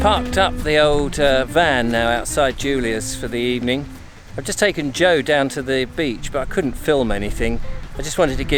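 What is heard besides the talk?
No everyday noise stands out behind the speech.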